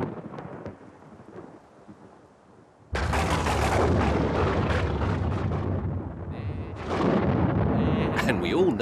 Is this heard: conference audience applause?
no